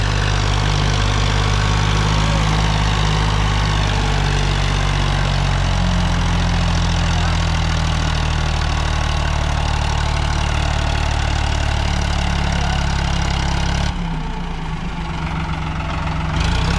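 A Sonalika DI-35 tractor pulling a loaded trolley, its diesel engine droning loud and steady close by throughout, with the tone dropping and changing near the end and no talk heard.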